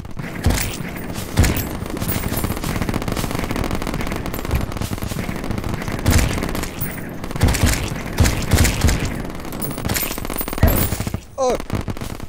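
Rapid gunfire from the video game Terraria, loud continuous bursts of shots with booms and cracks running for several seconds, with occasional voices underneath.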